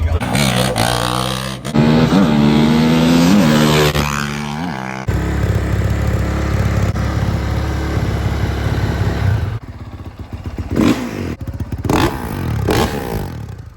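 A CRF450R dirt bike engine converted into a quad runs close by, its loud revs climbing and falling in repeated surges with brief dips between pulls, while voices are heard at times.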